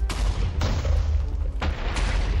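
Explosions in a Minecraft party game, three sharp broadband blasts at roughly half-second, one-second and two-second marks over a constant low rumble, loud and close with no talking.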